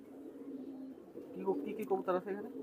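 Teddy pigeons coo nearby in a low steady murmur that breaks into several short rising calls toward the end, with a person talking quietly over them.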